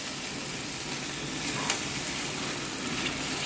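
Marinated chicken pieces, coated in ground black pepper with ginger and garlic paste, fry in a pan for chicken maharani, giving a loud, even, continuous sizzle that stays close and steady throughout.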